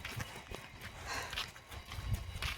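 Hooves of a cow being led to milking clop and shuffle on the ground, irregular steps close by amid rustling outdoor noise, fairly faint and without talk.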